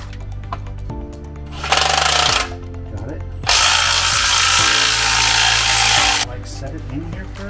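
An impact wrench fires in two loud, harsh bursts while working on a 1972 Jeep Bronco during skid plate and transfer case installation, close up over an idling, droning background.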